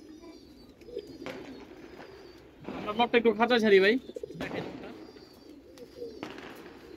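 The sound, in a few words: pigeons cooing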